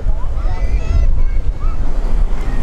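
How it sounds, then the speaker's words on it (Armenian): Strong waves wash against the shore of Lake Sevan on a rough, unsettled day, a continuous close surf rumble mixed with wind buffeting the microphone. "ուժեղ է ալիքների ձայնը"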